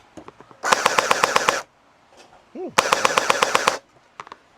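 A Zehua M249 gel blaster toy fires two loud close bursts of rapid rattling shots, each about a second long, separated by a short pause with a faint rising mechanical whine.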